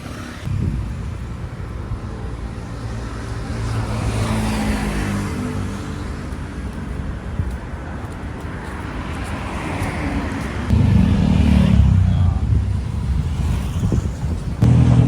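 Vehicles running along a sunny roadside near Mae Sot, Thailand, a steady broadband road and engine rumble, with a louder, closer vehicle passing near the end, wind buffeting the microphone throughout.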